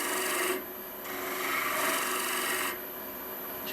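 A lathe tool makes a fine cut into a spinning end-grain wooden natural-edge vase, giving a steady close rasping hiss that swells and eases as the tool presses in and lifts, with no talking.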